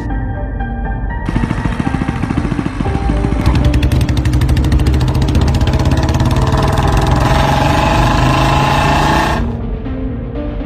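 Motorbike engine in an animated cartoon short, idling loudly, then rising into a sustained, rapid, buzzing rev for several seconds before easing back down.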